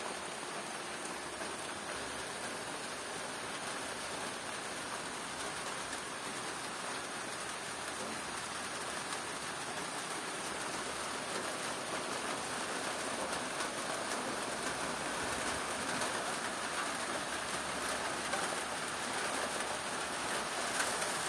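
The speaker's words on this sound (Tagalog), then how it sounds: "Parang dumaan lang na ulan kasi dyan nanggaling yung ulan kanina." Steady rain from a passing midday shower patters and hisses on surfaces on a farm, an even, moderate downpour with no voices.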